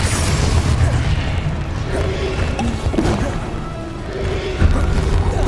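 Explosive Confringo blasts crackle and boom amid dense combat effects in Hogwarts Legacy, loud layered impacts and thuds repeating over a noisy game soundscape.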